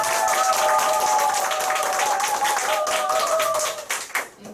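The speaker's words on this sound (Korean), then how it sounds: "박수 주세요" An indoor audience at a group business meeting bursts into sustained clapping, a dense, loud wash of applause that fades out toward the end, with a few voices faintly heard beneath it.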